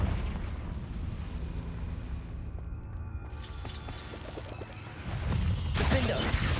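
A Confringo blasting spell explodes in a Hogwarts video game, a sustained deep rumbling blast with a mechanical crackle that swells louder toward the end.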